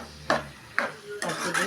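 Mutton rendang frying with chicken masala in a pan, stirred in three or four distinct scraping strokes over a soft sizzle, close up and without talk.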